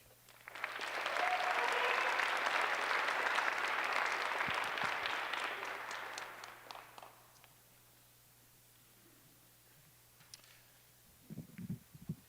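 An audience applauds the students at a Clarkston High School senior awards ceremony, a loud, dense burst of clapping that builds, holds for several seconds and then fades to quiet, with a few faint knocks near the end.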